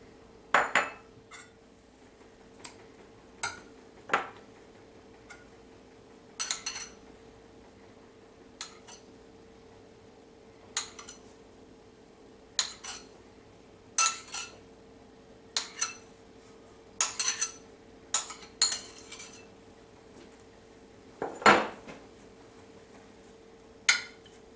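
Coleslaw of shredded cabbage is stirred with garlic paste and sugar in a bowl: sparse, sharp clinks and taps of a utensil against the bowl recur irregularly over a faint steady hum, with no talking.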